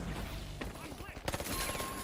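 Bursts of FAMAS rifle fire in a first-person shooter video game: sharp, rapid shots ring out in clusters over dense battle noise, strongest in the second half, with a voice talking at times.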